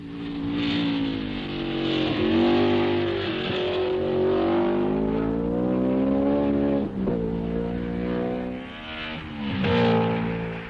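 A Grand Prix race car laps the twisting Nürburgring, its engine wailing continuously and loudly, pitch rising and falling through gear changes and corners.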